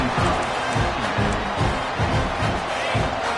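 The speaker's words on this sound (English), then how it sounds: "This crowd bringing the energy and noise early." Large stadium crowd at a Florida State football game roaring and cheering continuously, a loud, dense wash of voices with rhythmic swells.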